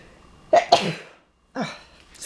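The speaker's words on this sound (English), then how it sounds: "I can feel a sneeze coming on" Two quick sneezes from someone with hay fever, close by, then a short pause and a softer third burst, like a sniff or a shorter sneeze.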